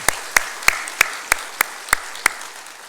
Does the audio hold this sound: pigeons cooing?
no